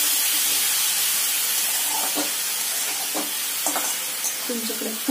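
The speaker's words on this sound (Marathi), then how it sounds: "छान असं तुपावर परतवून घेणार आहोत आपण याला।" Grated carrots sauté in ghee for carrot halwa, with a continuous close sizzle and hiss broken by a few sharp stirring scrapes and clinks from a spoon against the pan.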